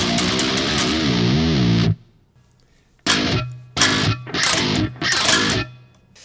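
A loud, distorted electric guitar plays a sustained passage, then cuts out; after a short silence, three rapid tremolo-picked bursts follow, each ending abruptly.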